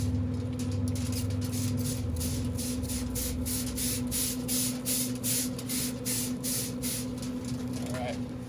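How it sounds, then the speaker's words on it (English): Rapid bursts of a spray bottle misting apple juice onto baby back ribs beside a Pit Boss grill, a steady series of short hissing squirts over a constant low hum. "we're going to spray them real good with some more apple juice."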